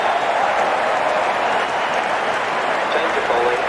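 Crowd at a women's T20 cricket match between India and Pakistan applauding steadily, a dense continuous wash of clapping and cheering with no clear pauses.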